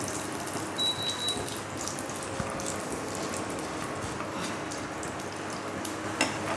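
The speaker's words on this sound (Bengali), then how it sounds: "এটা সরষে দিলাম, একটু ভেজে নেবো।" Mustard seeds sizzling in hot oil in a pan ahead of raw peanuts for a poha breakfast, a steady soft crackle throughout with a faint tonal ping and a brief clink near the end.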